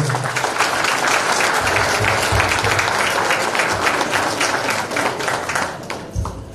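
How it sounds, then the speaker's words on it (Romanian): An audience applauds a party president at a political gathering, steady dense clapping that fills the room for several seconds and fades slightly at the end, with no talk over it. "Și cred că este momentul să-l aplaudăm pe domnul președinte Răducu Filipescu."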